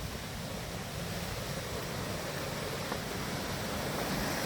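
Waterfall at Lumshory in the mountains, a dense, steady roar of rushing water close by, loud and continuous with no voices.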